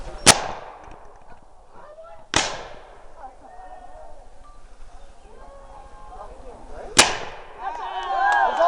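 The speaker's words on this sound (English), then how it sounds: "3-barrel Chinese hand cannon. Fire in the hole." Three-barrel Chinese hand cannon fired outdoors at a historical reenactment, giving three sharp, loud blasts spaced a few seconds apart, each fading quickly, with crowd murmur and talk in between.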